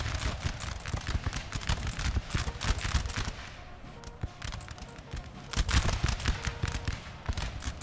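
Massed musket volleys in the Napoleonic Total War 3 battle game crackle in a dense, continuous barrage of overlapping shots, steady and loud throughout with no pauses.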